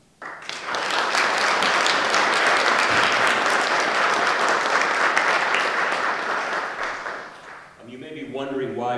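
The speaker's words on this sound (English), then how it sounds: "I just like to give a round of applause to all the people who made this event possible" A hall audience at a faculty hall of fame event breaks into loud, dense applause that holds steady for several seconds, then fades as a voice starts speaking near the end.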